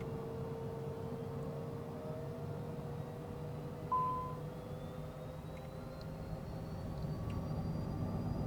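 Cessna Citation CJ4 jet engines pushed to full throttle in Microsoft Flight Simulator, a steady low hum with a slowly rising whine, fairly faint and continuous, with no voices.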